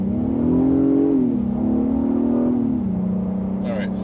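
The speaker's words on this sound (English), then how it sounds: "it's a lot more responsive, and the engine note is a lot louder. It has that weird, it's giving you a V6 note interior here" Acura TLX A-Spec V6 revving in Sport Plus mode, heard from inside the cabin: a loud, droning engine note that swells, dips as the transmission shifts, then settles, with a faint voice briefly toward the end.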